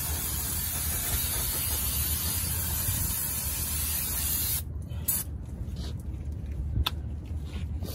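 A loud, steady hiss of aerosol brake cleaner sprays continuously for several seconds on the rear brakes of a 2002 Ford E-450, then cuts off, leaving faint clicks and handling noises.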